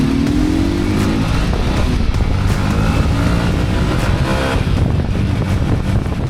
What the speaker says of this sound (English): Today we're taking the dirt bikes out for an adventure ride to Shivapuri Village Resort.